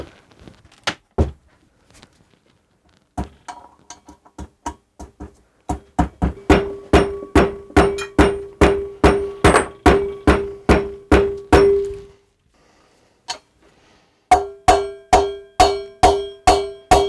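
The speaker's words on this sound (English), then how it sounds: "I'll just use the good old method of hammering it in" Repeated sharp metallic hammer blows driving a wheel bearing into a Yamaha FZ6 Fazer wheel, a few scattered strikes and then long steady runs of ringing clangs, loud and close.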